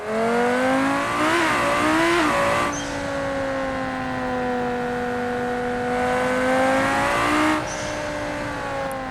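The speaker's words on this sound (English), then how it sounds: "The turbo does sound very nice" A turbocharged race car engine in BeamNG drones at high pitch, revving up and down through gear shifts, loud and close throughout.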